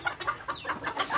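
Bantam chickens cluck close by in quick, repeated short clucks with uneven rhythm.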